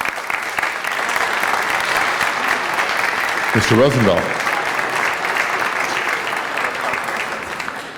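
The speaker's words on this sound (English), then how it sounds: "why don't we give Stan Chambers a rousing round of applause for his service" Sustained applause fills a city council chamber for a longtime public servant, a steady dense roar of clapping from the audience that holds throughout, with a brief spoken voice rising over it midway.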